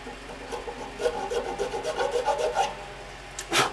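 File rasping across a bone nut on a Gold Tone banjo headstock, giving steady scraping strokes up close that end in a sharper final scrape, with no voices.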